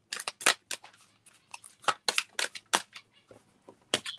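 Tarot cards are handled and shuffled up close, giving a series of sharp, irregular papery snaps and flicks with short pauses between them, heard alone without talk.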